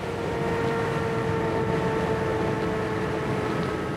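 Knobbly off-road motorcycle tyres on a Trans Euro Trail ride in Norway give a steady, tractor-like whine, heard close and continuous under engine and wind roar with the clutch pulled in.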